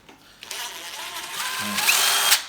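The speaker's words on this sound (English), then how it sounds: "I'll use an Allen key, but I'll just put it in the impact driver." An impact driver fitted with an Allen key bit undoes a bolt on a pole roller, making a close, loud continuous whir that starts abruptly and builds into a rattling hammering buzz before stopping.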